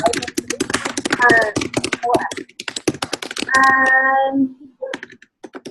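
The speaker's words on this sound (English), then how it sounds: "Someone is furiously typing." Fast, furious typing on a computer keyboard rattles as a dense stream of clicks under a person talking, with a few brief pauses.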